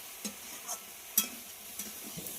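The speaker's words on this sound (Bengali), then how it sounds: "এবার খুব ভালো করে কষিয়ে নেব।" Vegetables and spices stirred in a pan with a spatula: a handful of soft, separate scrapes and taps spaced through a quiet background, with no voices.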